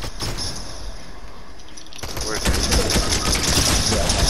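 Rapid video-game gunfire in Double Llama as players shoot at enemies, bursts of automatic shots growing louder and denser in the second half, with players talking over it.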